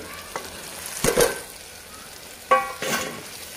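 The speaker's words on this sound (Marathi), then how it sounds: "छान मिक्स करायचं, परतायचं, म्हणजे भेंडीमध्ये मसाला मुरला पाहिजे सगळा" Fried okra tossed and sautéed in a masala mix in a pan, soft sizzling under a few scraping stirs, the spatula strokes coming in brief bursts.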